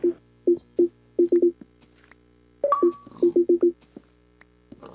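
A telephone sounds in a room as a series of short electronic beeps: two clustered bursts of tones with a brief pause between them, clear and fairly close.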